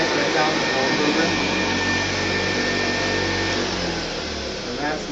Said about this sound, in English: And that's my Hoover Convertible, Model 31 from 1958.